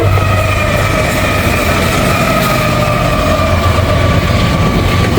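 A freight train hauled by a Norfolk and Western heritage unit rolls past near and loud, a continuous rumble of wheels and engine with a steady whine layered on top.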